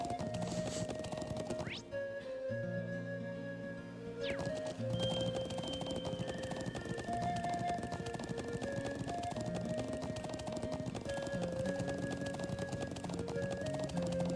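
Rhythmic horse hooves clip-clop steadily while a horse is ridden in The Legend of Heroes: Trails of Cold Steel, set against looping game music.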